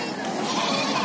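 Young goat kids bleat at the Ampel livestock market in Boyolali, their cries mixed into a dense, noisy crowd din of people talking and moving around.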